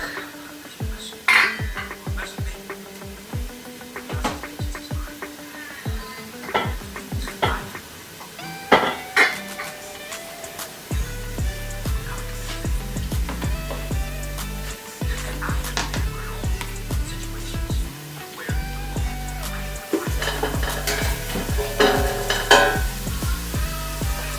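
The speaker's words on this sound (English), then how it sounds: "So I'll let the onion cook." Onion frying in a hot pan for a simple fish dish, with a soft sizzle running under frequent clinks and knocks of a utensil against the pan. After midway a steady low hum and a denser sizzle take over, and the knocks keep coming at irregular intervals.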